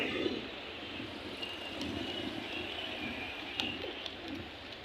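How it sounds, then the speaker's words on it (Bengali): Pigeons coo softly at a busy pigeon market in Bangladesh, a steady murmur of birds under a constant bed of crowd and street noise, with a few faint clicks and no clear talk. "আর কাছে আরও অসংখ্য সিলভার কবুতর আছে"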